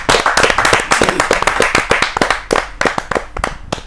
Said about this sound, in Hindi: जोरदार ताली के साथ हम उनका स्वागत